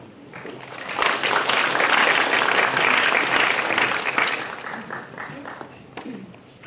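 Audience applause at the opening ceremony of a Confucianism international forum in Chungcheong, a dense, steady clapping from a seated crowd that swells quickly, holds, then tapers off near the end.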